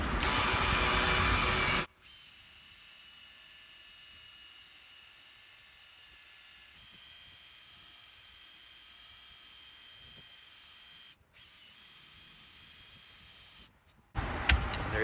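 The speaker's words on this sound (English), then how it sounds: "So I get a good amount of compound on my buffing wheel." A buffing wheel loaded with compound polishes car paint. A loud, broad rushing burst at the start gives way to a steady, fainter motor hum, then the harsh rush returns at the end.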